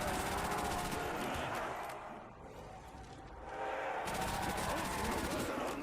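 Rapid automatic gunfire mowing down zombies in Call of Duty's Verruckt map, dense bursts that ease off midway and then resume at full intensity, with faint talk underneath.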